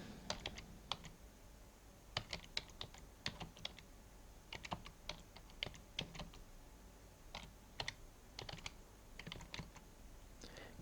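Keystrokes on a computer keyboard while entering keywords into a website editor, a steady stream of clicky taps in quick bursts with short pauses, close and alone with no talk.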